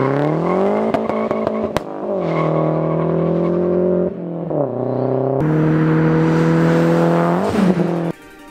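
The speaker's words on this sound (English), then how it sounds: "so you just dump the clutch and you're off." Mazda Speed 3 with Cobb Access Port launch control, engine held at a steady high rev limiter drone, then clutch dropped with surging acceleration, gear changes and brief tire squeal, loud and close.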